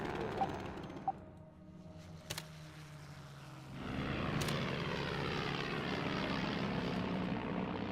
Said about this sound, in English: Let's send recon planes.